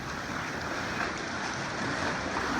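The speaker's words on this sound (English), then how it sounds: "the water was pretty choppy, especially in some spots" Choppy sea water surges and washes inside a coastal cave in the Channel Islands, a steady faint rushing churn mixed with wind noise.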